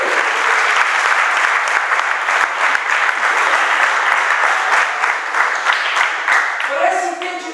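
A church congregation applauds for Jesus during a sermon, with steady, dense clapping that holds for several seconds before thinning out, with some voices mixed in.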